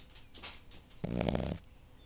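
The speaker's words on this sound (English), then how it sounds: "Honey, you're snoring." A pet wrapped in a towel snores during a nap, with a soft breath around the middle of the clip and then one louder, rattling snore lasting about half a second, close and quiet with no talking.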